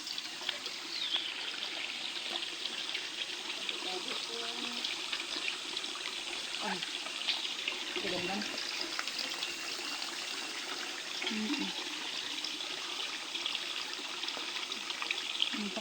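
Natural spring water flows steadily into an outdoor pool at Pansol, Laguna, a soft continuous trickle and splash that stays faint and even, with a few quiet bumps and movements nearby.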